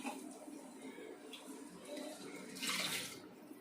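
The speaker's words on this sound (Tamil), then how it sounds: "இப்போ வந்து நாலு டம்ளர் தண்ணி ஊற்றிக்கலாம்" Water pours and splashes steadily into a cooking pot of rice for chicken biryani for a few seconds, swelling into a brief louder gush near the end, close and fairly quiet.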